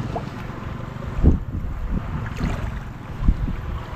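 A motorboat chugs along over the water, its low engine rumble steady, with wind noise and occasional splashing thumps against the hull.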